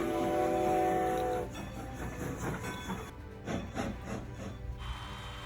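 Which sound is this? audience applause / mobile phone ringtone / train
train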